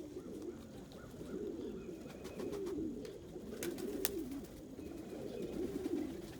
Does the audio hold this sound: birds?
yes